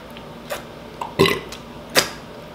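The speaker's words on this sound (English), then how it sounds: "Even my burp is still hot." A burp after eating twice-spicy fried chicken during a mukbang, a short gulping belch among a few small mouth clicks, close and fairly loud, with no talking.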